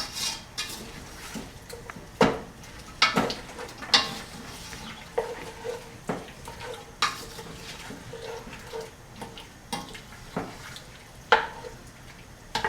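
Pork being stirred in caramel sauce in a pan: repeated scraping clinks of a utensil against the pan at an uneven rhythm over a soft, continuous sizzle, close and clear with no talking.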